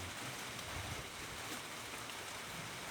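Steady rain falls over a rural village home in Thailand, a dense even hiss with no breaks, moderately faint and heard alone without voices.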